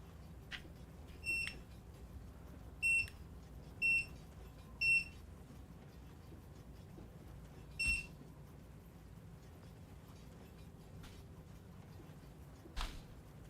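Short electronic beeps, faint and sharp, come in quick pairs and singles at irregular intervals over quiet room noise.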